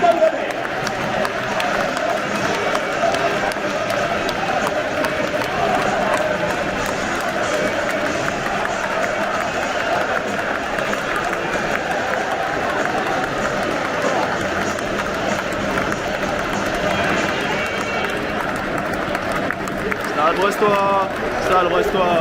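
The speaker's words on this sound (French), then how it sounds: "Vos encouragements et applaudissements pour les joueurs du Stade Brestois 29 et du Stade Rennais." A football stadium crowd at the Brest versus Rennes Breton derby cheers and applauds the Stade Brestois 29 and Stade Rennais players, a dense, steady roar of voices and clapping with chanting mixed in throughout.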